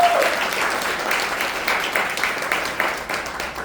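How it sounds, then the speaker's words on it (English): Audience applause at a business acquisition and multifamily investing event in New York City, a steady wash of many hands clapping throughout, fairly loud and sustained with no talk over it. "Can we have a round of applause for them?"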